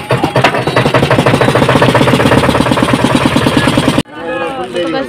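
A boat engine throbs loudly and close by at Mukutmanipur with a fast, even pulsing beat, then cuts off abruptly before voices are heard.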